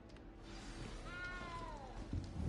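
A small frightened cat in the game Hogwarts Legacy lets out a single drawn-out, falling meow at close range over a low, steady game-world background.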